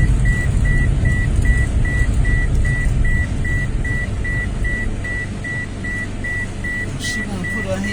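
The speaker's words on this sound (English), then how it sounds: "And of course y'all gonna hear the beeping. We don't put no seatbelt on." A car's seatbelt warning chimes in a steady, evenly spaced run of short beeps inside the cabin, over the constant hum of the air conditioning and engine.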